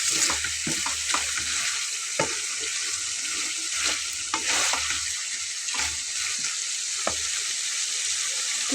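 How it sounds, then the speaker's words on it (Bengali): Chicken pieces sizzle steadily in hot oil in a pan for a Bengali chicken dish, with a bright, continuous frying hiss broken by scattered scraping stirs and clinks; close, fairly loud, no talk. "আমি আরও একটু কষিয়ে নিচ্ছি"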